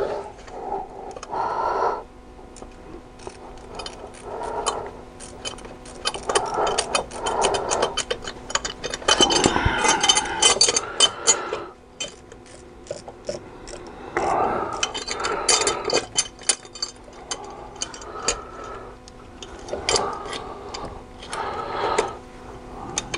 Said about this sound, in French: Je vais quand même prendre mon cliquet rotatif, ça ira mieux.